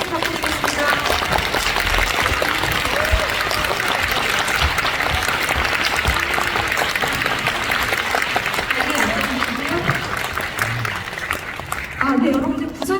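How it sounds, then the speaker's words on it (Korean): Big round of audience applause greeting directors and actors as they come onstage at a Busan International Film Festival guest event, dense steady clapping filling the hall throughout and easing slightly near the end. "여러분들 큰 박수 부탁드리겠습니다."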